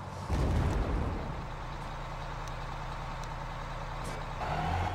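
A bus driving in Garry's Mod, its low engine drone steady and loud throughout, with a brief louder surge near the start and a rising tone near the end.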